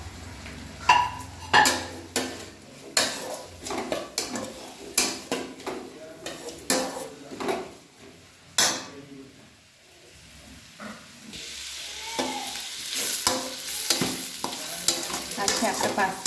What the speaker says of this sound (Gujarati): આ છે આપણે પાસ્તા માટે વેજીટેબલ બધા વઘાર દીધા છે.